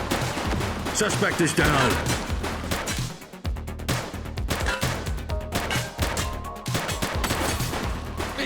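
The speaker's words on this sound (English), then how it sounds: "Shots fired!" Gunshots in a police video game: rapid, loud bursts of firing in repeated volleys with sharp cracks and crashes, running nearly continuously, with a voice speaking briefly among them.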